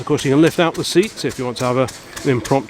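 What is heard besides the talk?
No distinct noise like a dog, phone or traffic.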